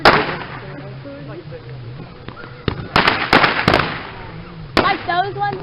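Fireworks burst close by outdoors, several sharp loud cracks and pops in quick succession amid people's excited chatter and shouts.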